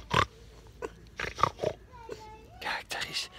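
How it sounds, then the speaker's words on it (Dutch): Piglets running about give short, repeated grunts and oinks at close range, and a person talks softly between them. "kijk die varkentjes rennen."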